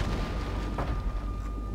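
Deep, rumbling booms of large fireballs exploding in a Total War: Attila battle, a dense, continuous low roar with a few muffled thuds layered into the din.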